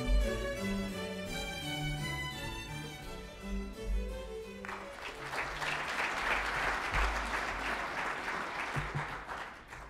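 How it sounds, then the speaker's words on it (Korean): An audience at a formal ceremony bursts into applause after a short stretch of music, the clapping loud, dense and sustained to the end. "박수로 모시겠습니다."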